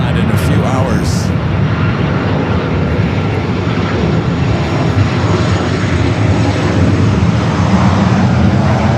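A fixed-wing airliner taxis and turns toward the Tom Bradley terminal at LAX, its engines producing a steady, loud jet roar with a constant drone. Voices talk underneath the engine noise.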